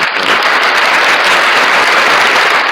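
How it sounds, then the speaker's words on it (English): Loud, dense applause from a crowd, sustained evenly throughout with no voices on top. "Give them a round of applause."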